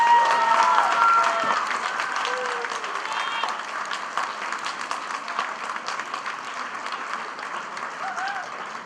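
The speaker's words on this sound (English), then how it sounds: "give them the biggest applause possible to their faces" Audience applauding at a high school leavers' ceremony, a dense sustained clapping that starts loudest and gradually thins and softens, with a few faint voices in the crowd.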